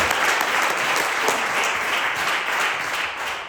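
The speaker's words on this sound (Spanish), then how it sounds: "Dale palmas al Señor." A church congregation bursts into loud, sustained applause, a dense wash of many hands clapping together for several seconds.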